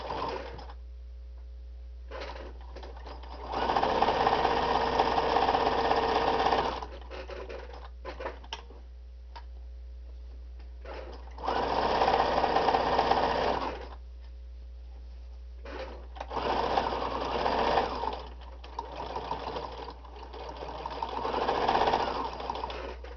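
A sewing machine stitching fabric for a microwave bowl holder: several runs of rapid, loud stitching, close up, broken by pauses with small clicks as the fabric is turned, over a steady low hum.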